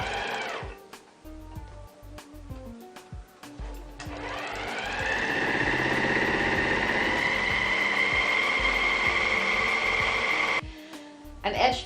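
A serger sewing machine chain-stitching between fabric pattern pieces, starting with a few short bursts and then running in a steady, close mechanical whir for several seconds before stopping, with faint thumps around it.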